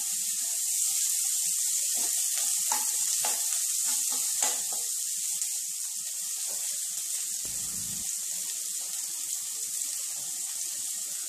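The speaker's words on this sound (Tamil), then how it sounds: "குட்டி குட்டியாக நறுக்கி வச்சுங்க வெங்காயம், அதையும் போட்டு நல்லா வதக்கிக்கோங்க." Finely chopped onions sauté with salt in a pan, giving a continuous soft, hissing sizzle with scattered light scraping taps from stirring and one brief low knock near the end, without any talking.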